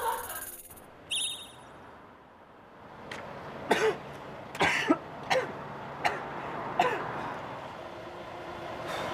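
A person coughs repeatedly in a Korean mystery program segment, several short, sharp bursts spaced a second or so apart against a quiet room background.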